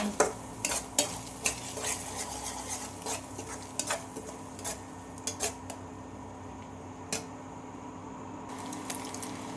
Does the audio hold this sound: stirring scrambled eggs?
yes